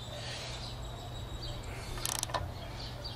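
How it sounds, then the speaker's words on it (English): A ratchet with a 1¼-inch socket tightening the rear timing chain tensioner on an Ecotec engine gives a brief cluster of metallic clicks near the end, over a steady low mechanical hum. "Now for the rear tensioner, I got a 1¼-inch socket that'll fit it perfectly fine, and you can get it tightened."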